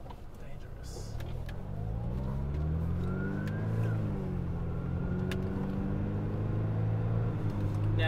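An engine hums and shifts pitch as a 1990s Mercedes drives slowly over speed humps, with faint thuds and interior rattles; someone talks briefly.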